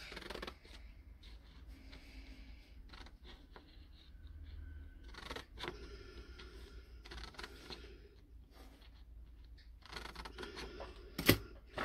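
Scissors cut fabric for a pleated tube skirt, making faint, intermittent clusters of snips and rustles in a quiet room, with one sharp click near the end; no one speaks.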